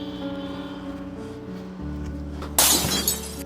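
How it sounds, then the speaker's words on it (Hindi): A car window is smashed with a brick, a sudden loud close shatter of breaking glass with tinkling fragments trailing off, heard after a stretch of background music. "इस ईंट से इसका शीशा तोड़कर इसे आगे कर देता हूँ"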